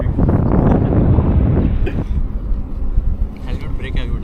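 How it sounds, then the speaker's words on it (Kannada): Strong crosswind buffets the microphone on a highway through a wind-farm area lined with lorries, a loud continuous roar that eases slightly after the first two seconds, with road rumble beneath. "ಕ್ರೇಜಿ ಗಾಳಿ ಇದೆ ಮಾತ್ರ"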